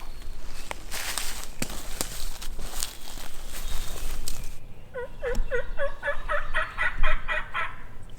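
A wild turkey gobbles in a rapid rattling burst in the woods, answering a box call, after footsteps shuffle through leaves nearby.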